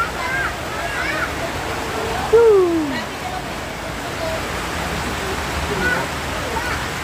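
A continuous roar of rushing high floodwater, steady and broad, with a voice speaking briefly partway through.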